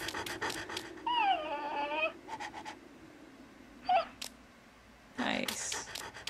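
A dog in the horror video game Ju-On: The Grudge pants and whimpers in short bursts, with breathy panting and a drawn-out whine heard fairly close over a low ambient drone.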